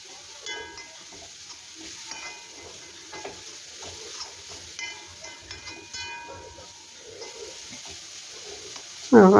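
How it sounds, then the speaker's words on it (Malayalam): A mashed banana and oats mixture with jaggery being stirred in a pan: soft, irregular scraping and sticky stirring close by, low and steady with a faint background tone and a louder clatter at the very end. "ശർക്കര എല്ലാത്തിലും എത്തത്തക്ക തരത്തിൽ ഇളക്കി കൊടുക്കാം."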